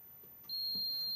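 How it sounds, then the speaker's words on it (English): A Lasko tower heater from the early or mid 2000s gives a single steady high-pitched electronic beep as it is plugged in, a sustained tone that starts partway through and holds to the end. "I'm gonna go ahead and plug this in, and you'll hear like a little beeping sound"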